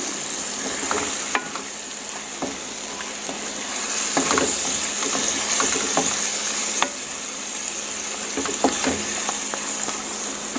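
Chicken livers with oyster sauce and black pepper sizzle steadily in hot oil for a home-cooked chop suey, a continuous close hiss broken by scattered sharp pops and crackles throughout.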